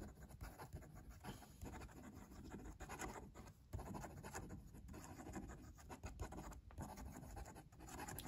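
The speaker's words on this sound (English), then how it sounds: "Quick writing." Pilot Falcon fountain pen nib scratching quickly across paper in fast, continuous strokes with slight feedback, close and fairly quiet, with no voices.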